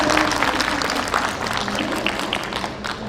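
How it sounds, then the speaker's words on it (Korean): An audience claps steadily for about three seconds, a dense wash of many hands applauding together. "박수로 하나 부탁드리겠습니다."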